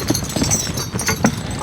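A horse walks with irregular clip-clopping hooves, moderately close, over a soft background rustle.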